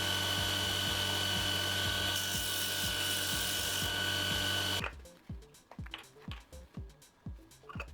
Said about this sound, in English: I clean up the outer edge with a belt grinder.